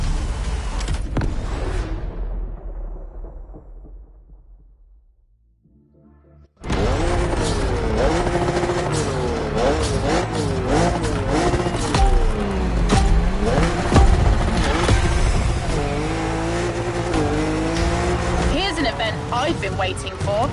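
A BMW M4 drifts in a video game, its engine revving and wailing in rising and falling sweeps against loud music, after a brief fade into near silence, then sustained and loud.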